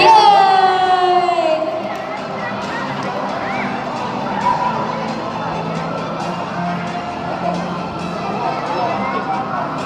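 A large crowd at a school sports day cheers and shouts in a steady, busy roar, with a whistle-like tone sliding down at the start.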